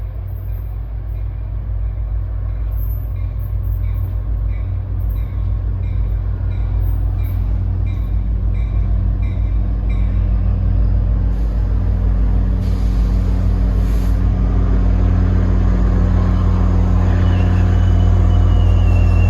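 A diesel passenger train led by an EMD F40 locomotive approaches on New Jersey Transit's Main/Bergen line, running Hoboken to Suffern. It makes a loud, continuous low rumble that swells gradually, with a faint high whine above it.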